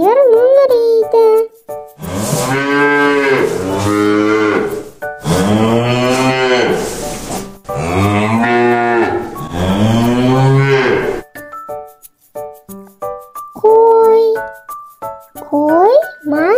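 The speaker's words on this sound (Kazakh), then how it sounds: "Сиыр мөңірейді." A cow moos repeatedly in deep, drawn-out calls, three long bellows in close succession, framed by a voice speaking before and after along with brief chime tones.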